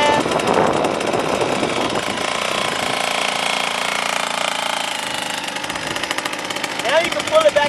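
A KTM 85 two-stroke dirt bike engine revs loud and up close as it is put in gear with a little throttle. Its raspy, buzzing roar holds steady throughout, with voices faintly mixed in.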